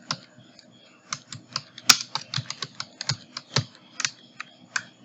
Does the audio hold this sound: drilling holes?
no